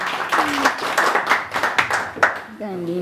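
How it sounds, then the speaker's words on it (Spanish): Audience clapping at a mariachi birthday performance, loud, steady applause filling the room, with bits of voices and a brief sung or spoken tone near the end. "Y ese aplauso muy bonito"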